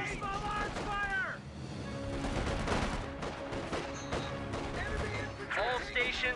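Small arms fire crackles in a Company of Heroes 2 battle, with repeated bursts of gunfire and distant fusillades rolling on throughout, mixed with shouting voices.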